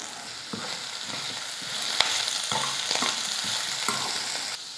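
Ridge gourd peel sautés in a pan with salt, giving a steady sizzle broken by a few sharp scraping stirs of a spatula, close and fairly loud, with no voices.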